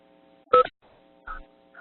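Touch-tone keypad tones from a phone dialing *6 to mute the line on a panel-discussion conference call, two short electronic beeps heard separately and clearly, with a fainter tone trailing, and no talking.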